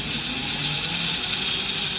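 Electric motorcycle motor running, a steady high-pitched whine with a constant mechanical hum, close and even, with no voices.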